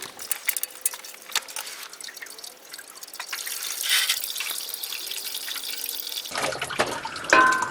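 Engine oil dribbling and dripping from the drain of a Ford 6.7L diesel Super Duty, a faint irregular patter of drips and trickling liquid close by, no talking.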